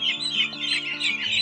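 Young chicks on a poultry farm peep in a continuous chorus of high, overlapping chirps, close and fairly loud, with no talking.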